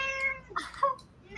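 A cat meows a couple of times, close and fairly clear, with no talking over it.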